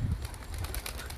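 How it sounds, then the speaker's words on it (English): Pigeons coo outdoors, a low soft murmuring call repeated in a short stretch, close by and moderately loud against faint background noise. "there go the pigeons."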